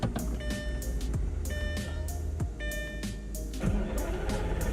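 A homemade Lamborghini replica starts up: the engine cranks in a few uneven bursts, with mechanical whirs and short rising tones between them. It sounds close, and no one speaks.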